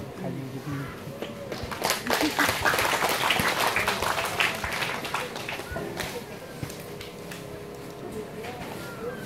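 An audience at a gathering gives a big round of clapping for an invited guest, swelling quickly to a dense peak, then slowly thinning out, with voices talking over it toward the end.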